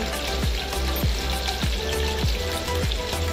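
Mutton frying loudly in a pan with a steady, close sizzle, while a spatula scrapes and stirs it in repeated strokes roughly every half second.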